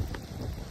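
Heavy rain pours down in a steady, dense wash with a constant roar, close and unbroken, with no voices over it.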